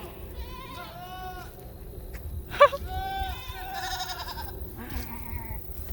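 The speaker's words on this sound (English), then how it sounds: "Oh, all these goats." Several goats bleat in repeated wavering cries at a goat farm, some close and some farther off, with a sharp clank partway through and people talking at times.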